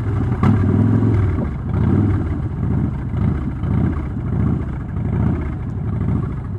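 Harley-Davidson Street Bob motorcycle with a stalling problem, its engine held at a rumbling idle and revved in repeated swells while coming to a stop; loud and close, with no talk.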